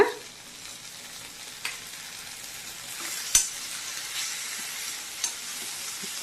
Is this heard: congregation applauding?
no